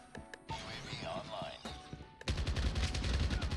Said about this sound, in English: Oh, we just sniping them right now.